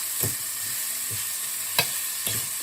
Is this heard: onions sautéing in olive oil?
yes